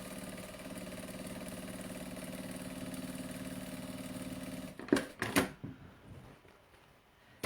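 Sewing machine stitching seams on fabric for a project bag, a steady motor whir running for about five seconds, then stopping, followed by a few sharp handling clicks and rustles.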